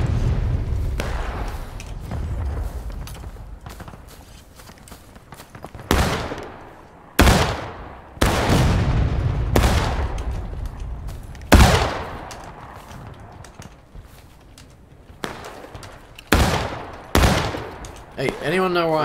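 Musket volleys from the Civil War video game War of Rights crack repeatedly, some shots close and loud, others scattered and distant, over a steady battlefield din with occasional voices.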